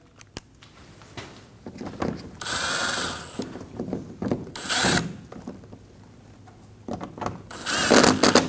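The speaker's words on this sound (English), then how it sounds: "Install the screws up through the bumper. Get them nice and snug." Screws are driven up through the bumper of a 2012–2022 Volkswagen Passat with a ratcheting tool. Several bursts of loud, close clicking and whirring are separated by quieter handling noises.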